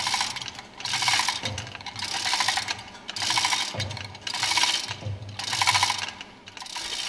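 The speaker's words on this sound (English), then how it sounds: "Pull the center screw of the tool to lift the plunger clear of the bayonet joint in the roller guide" A tool's center screw being pulled during a main engine fuel pump overhaul, lifting the plunger clear of the roller guide: repeated metallic ratcheting, clicking bursts in several waves, close and steady, with no talk.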